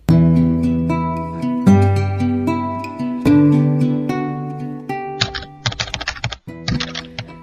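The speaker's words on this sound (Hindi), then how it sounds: "टाइपराइटर के बटन दबने की आवाज सुनाई दे रही थी।" Close, rapid typewriter keystrokes tapping in uneven bursts over sustained musical tones, with a few sharp clacks near the end.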